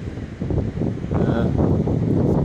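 Wind blows outdoors at sunset in Southern California, a broad rushing rumble that buffets the microphone in uneven gusts, growing steadier after the first second; no voices heard.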